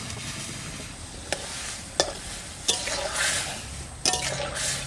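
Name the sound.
vegetable stems and potatoes added to a pot of hot water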